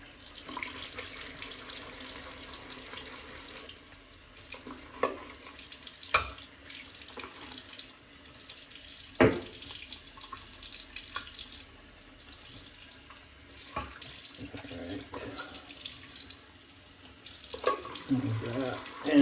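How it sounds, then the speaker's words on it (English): Tap water runs steadily into a sink while a shaving bowl and brush are rinsed under it, with occasional sharp clinks and knocks of the bowl against hard surfaces. "I always rinse out my bowl and my brush"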